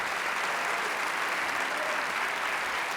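Church congregation applauding continuously, a thick, even roar of many hands clapping in a large room, steady and loud throughout.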